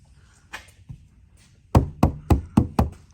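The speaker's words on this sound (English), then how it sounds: "so when you hit the door, it's got a thump sound as opposed to the fender" Knuckles knock on a project car's door fitted with sound deadening: a few soft taps, then five firm, dull thumps in a steady rhythm, close and distinct.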